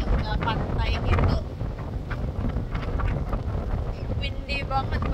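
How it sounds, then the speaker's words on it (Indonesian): Strong wind on a beach at Lake Entrance, Australia, buffets the microphone in a steady, roaring rush, with faint voices partly buried underneath. "Windy banget, berangin banget"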